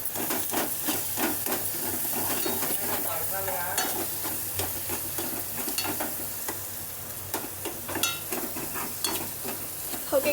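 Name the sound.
potato stuffing frying with onions and chilli in a pan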